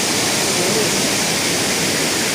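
Rushing water pours steadily, a dense, continuous hiss of a mountain stream and small waterfall flowing close by, at Phaon Phop Waterfall on Phu Kradueng, still clear two days after rain.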